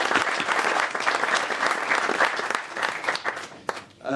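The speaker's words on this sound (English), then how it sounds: "let me get a round of applause for our legislators" Audience applause at a public announcement event for a new Trex facility in Little Rock, Arkansas, honoring legislators; dense, steady clapping from a sizable crowd for about four seconds, dipping briefly near the end.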